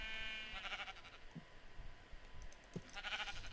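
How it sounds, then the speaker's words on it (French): Pink sheep in the video game OMG bleat softly over a steady hum of game ambience, with a couple of faint clicks in between and no talk. "Ouah, mais je tombe que sur des moutons roses ou quoi?"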